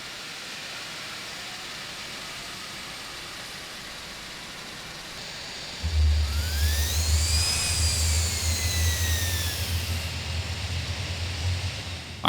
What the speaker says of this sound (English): Alrighty, let's start engine 3.